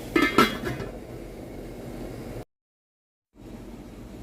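A metal lid clanks down onto a cooking pot of garlic and onion, two quick clinks near the start, then a quiet simmering hiss before a brief silence.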